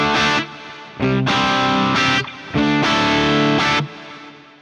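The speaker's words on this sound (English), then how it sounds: "It's real fizzy on the top end." Electric guitar through a Soldano amp model with the default cab on an Ampero II Stomp, a harsh, fizzy distorted tone: four loud strummed chord bursts in a rough rhythm, with brief gaps between them.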